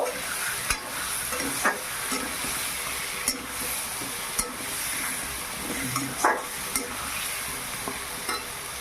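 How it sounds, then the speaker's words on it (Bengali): A spoon scrapes and stirs spiced duck meat curry in a pan, with regular knocks and scrapes about once a second over a constant close sizzle and hiss. "এবার একটু নেড়ে চেড়ে নিব।"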